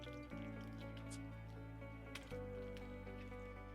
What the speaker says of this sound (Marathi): या प्रकारे तेलाचे हे पॅकेट यामध्ये ओतून घ्यायचे.